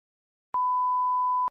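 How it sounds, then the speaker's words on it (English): A single synthesized beep made in Ableton for a dubstep track, a steady pure tone held for about a second with clean start and stop, alone. "Let's just do a beep."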